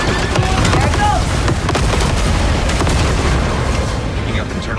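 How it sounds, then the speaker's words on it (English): Dense, continuous rumbling blasts and booms from Star Wars Outlaws fill the scene, a steady wall of chain-reaction explosions with brief sharp bursts near the start. "Picking up internal explosions."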